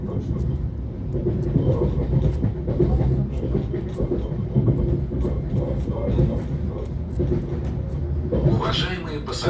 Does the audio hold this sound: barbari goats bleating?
no